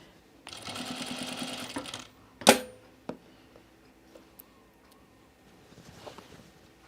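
A sewing machine stitching a dress runs in one short burst of rapid whirring, then stops; a sharp click follows, with a few small knocks and light handling noises in the quieter remainder.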